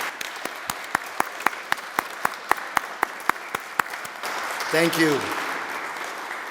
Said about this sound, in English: Can the rest of us give them a round of applause?